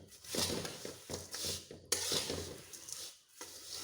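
A sweet aval (flattened rice) mixture is stirred in a pan, giving dry rustling and scraping strokes in a loose rhythm, fairly close and with no talk over them.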